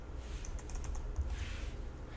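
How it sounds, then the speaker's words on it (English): Someone types a command on a computer keyboard to run the C# compiler, a short burst of quick, close keystrokes over a steady low hum. "I'm going to type in CSC and then /help,"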